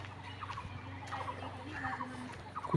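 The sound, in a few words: kuthurke bird calling in forest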